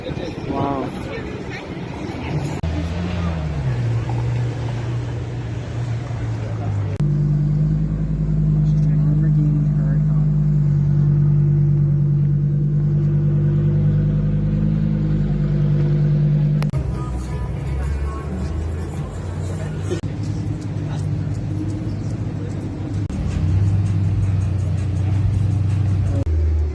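A Championship white Honda Civic Type R with a manual gearbox and gold rims drives along a Toronto Yorkville street, its engine swelling loud and close before easing off, with people talking over it.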